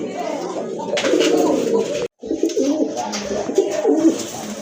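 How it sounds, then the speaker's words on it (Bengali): Pigeons coo continuously at a busy pigeon market, including a pair of white-breasted birds, with dense overlapping calls close by and a brief break midway. "আরেক জোড়া কবুতর দেখেন, খুবই সুন্দর কিউট এক জোড়া কবুতর"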